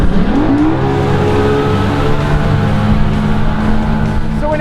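An Evinrude Gen 2 E-Tech 150 outboard motor pushes a 2016 Manitou Encore 23 RF SHP pontoon boat, its pitch climbing quickly at first and then settling into a loud, sustained engine drone with no talking.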